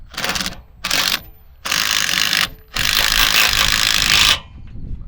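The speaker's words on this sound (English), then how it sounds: "And then he's using an impact driver." An impact driver hammers an anchor screw in four loud bursts, separated by short pauses, with the last burst running longest, close and harsh.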